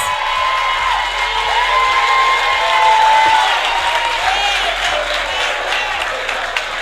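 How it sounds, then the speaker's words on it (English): An audience at a town hall meeting breaks into loud, sustained applause with cheers and whoops mixed in, steady throughout and close at hand. "A round of applause"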